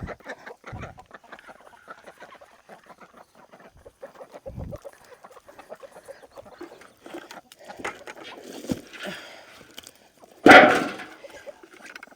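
Chickens on a farm cluck softly and steadily while being fed, with a louder squawk burst near the end and scattered faint noises around them.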